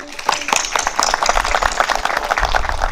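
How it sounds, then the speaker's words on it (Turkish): A crowd applauds, steady dense clapping from many hands that continues for the whole stretch, fairly loud and close. "Bir alkış rica ediyorum"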